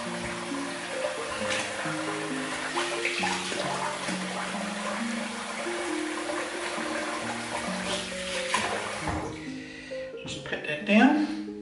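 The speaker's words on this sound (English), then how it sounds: "I'll call that a shave. Rinse off." Water runs from a tap while someone rinses off after a shave, a steady close splash and flow heard under a voice throughout, with music-like tones mixed in.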